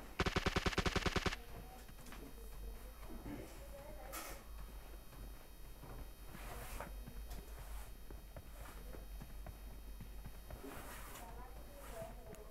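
A rapid burst of automatic gunfire in the mobile game PUBG Mobile Lite opens loudly for about a second, followed by quieter in-game footsteps and scattered movement sounds.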